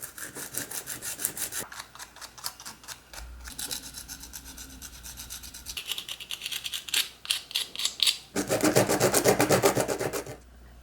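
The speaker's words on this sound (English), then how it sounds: "it is time to begin sanding out all the rough edges." Rough edges of dried air dry clay pieces being sanded by hand, a close, quiet scratchy rasping in quick repeated strokes, with pauses between bursts and a louder, faster stretch near the end.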